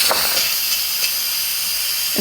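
Steam hisses steadily from an Instant Pot pressure cooker on quick release after cooking shrimp scampi pasta, a loud continuous rushing hiss with a few faint clicks, no voices.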